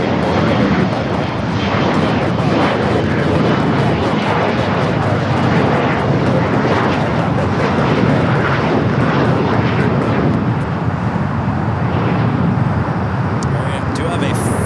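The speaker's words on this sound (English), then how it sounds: "We do have a FedEx 767-300 freighter heading to Burbank." A FedEx Boeing 767-300 freighter jet at LAX roars loudly and continuously, a broad rumbling engine wash with voices talking underneath.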